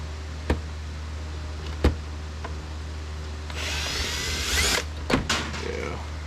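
A power tool whirs in a short burst while screws are taken out of Yamaha digital drums being scrapped, with sharp knocks and clicks of parts before and after, close and fairly loud.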